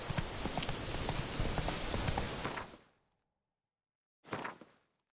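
Hooves of Roach, Geralt's horse in The Witcher 3, clopping steadily and close for nearly three seconds, then cutting out, with a short second burst of hoofbeats a moment later.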